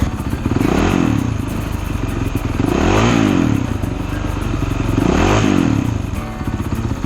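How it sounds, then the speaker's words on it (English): Honda 450 RX motorcycle engine revs up and down three times in a repeating rise-and-fall cycle, loud and close with clattery mechanical texture and no talk. "This Honda 450 RX is mapped in the easy mode"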